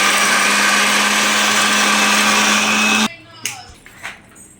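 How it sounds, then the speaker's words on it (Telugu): A mixer grinder blending putnala (roasted gram) chutney runs loud and steady with a high whine for about three seconds, then cuts off abruptly, leaving a few faint clicks and knocks. "చట్నీ అయితే మిక్స్ పట్టేసింది"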